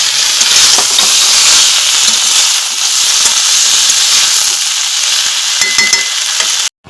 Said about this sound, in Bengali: এখন শুক্তো কষানো হচ্ছে।